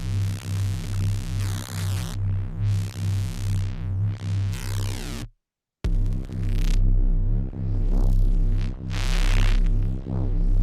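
A Reese bass note built in Serum for a tutorial, shaped by an auto filter placed ahead of distortion. A loud, sustained, throbbing low drone phases and sweeps, cutting out briefly near the middle before resuming alone.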